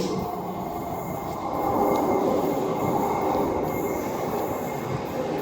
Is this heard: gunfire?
no